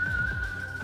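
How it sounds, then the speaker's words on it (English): A single steady whistled tone from a character emote in a video game, clear and sustained on one pitch, heard alone without talk. "It's whistle time."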